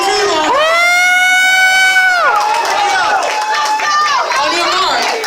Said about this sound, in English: I'm here to hear everybody cheer their team on